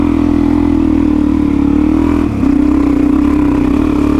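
Suzuki DR-Z motorcycles with big-bore engines riding off-road in the Victorian High Country, a steady loud mid-pitched engine drone with a brief dip as the throttle changes, heard close with no talk.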